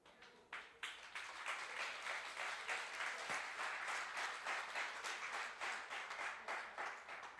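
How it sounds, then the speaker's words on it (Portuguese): Applause from an audience at a women's seminar, distinct claps building quickly into a steady, even wash of clapping that carries on throughout at moderate distance. "Aplaudir bo mes pa esse."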